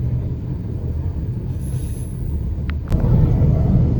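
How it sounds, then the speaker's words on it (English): White Pass scenic railway train near Skagway, Alaska: a steady, loud rumble of rolling cars with a brief high wheel squeal partway through and a heavier clunk near the end. "the train begins its return journey back to Skagway"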